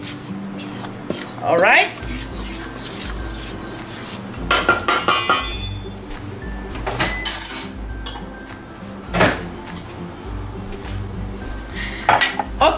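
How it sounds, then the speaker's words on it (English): Dry ingredients for Dominican yaniqueques being mixed in a bowl, with utensils clinking and scraping against the dish in irregular bursts, close and fairly loud, while a person speaks briefly. "These are the dry ingredients. I'm gonna mix them together."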